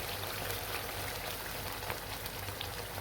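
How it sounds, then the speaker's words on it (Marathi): Hot water pours steadily into a spicy fish curry in a pan, a continuous soft hissing, bubbling rush heard alone at close range. "त्याच्यात गरम पाणी टाकून घेऊ आपण"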